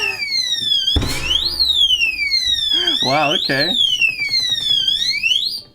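A TIGERKING digital security safe's vibration alarm wails loudly in repeated rising and falling electronic sweeps, with a brief burst of noise early and a voice speaking briefly partway through.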